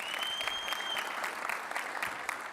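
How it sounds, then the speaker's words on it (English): Audience applause for a software development team at a tech conference session, steady dense clapping from a large crowd filling the room at moderate level, with no one speaking. "give the team a huge round of applause for working on this"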